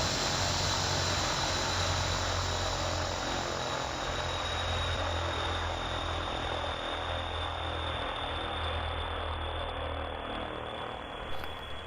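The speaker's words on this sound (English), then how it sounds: "condition lever to cut off. And you can watch the engine wind down." A Pilatus PC-12 turboprop engine in a flight simulator game spools down after the condition lever is pulled to cut-off. The steady propeller and engine roar runs loud and continuous for about twelve seconds, tapering only slightly at the end.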